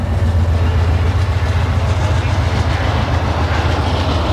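An Amtrak train passes near a small-town baseball field, a loud, steady rumble with rhythmic clickety-clack of wheels on rails that holds throughout, with no talking over it.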